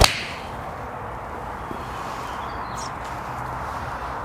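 A Srixon ZX iron strikes a golf ball outdoors with one sharp crack at the very start, followed by steady open-air background noise and no voices.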